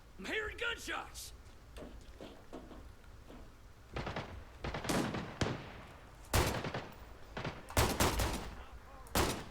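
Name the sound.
gunfire in a video game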